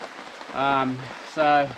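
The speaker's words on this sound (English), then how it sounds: "I don't know if you can hear, but it's raining." Steady rain falls on an Australian bushcraft base camp, a soft continuous hiss throughout, while someone speaks briefly over it twice.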